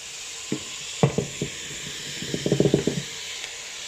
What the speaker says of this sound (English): now we're just going to add the bacon to it